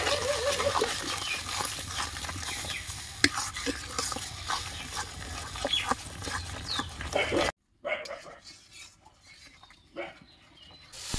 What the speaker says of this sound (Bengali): তো দেখো মশলাটা ভালো করে কষিয়ে নিয়েছি